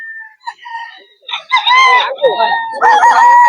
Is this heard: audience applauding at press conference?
no